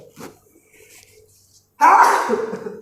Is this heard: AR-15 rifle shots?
no